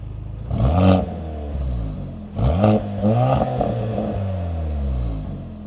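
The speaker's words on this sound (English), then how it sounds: "Okay, now for the sport exhaust mode." Two sharp throttle blips ring out from a 2023 Mercedes C43 AMG, its performance exhaust in sport mode, followed by a deep idle growl.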